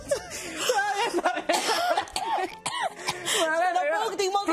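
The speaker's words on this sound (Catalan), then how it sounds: "Però quina tos" A person coughs in a harsh, throaty burst, surrounded by laughter and lively voices talking.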